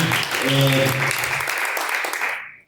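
A church congregation applauds loudly and steadily in praise, with a voice or tone briefly sounding underneath before the clapping fades out at the end.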